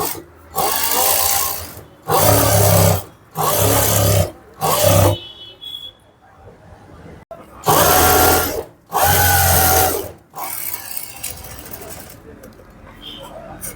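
Sewing machine running in repeated bursts while edge-stitching a puff sleeve, each loud close whir lasting about a second or two and separated by short pauses, with quieter handling noise between runs.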